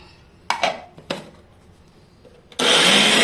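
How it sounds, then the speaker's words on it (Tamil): A kitchen mixer grinder blending sautéed tomatoes and onions for a Chettinad raw banana tamarind curry: a few knocks and clatters of the jar being set up, then the motor bursts into a loud, steady, harsh whirr. "இப்போது வதக்கி வச்ச தக்காளியையும் வெங்காயத்தையும் மிக்சியில் போட்டு நல்லா வலுவலுன்னு அரைச்சி எடுத்துகிட்டு வரலாம்."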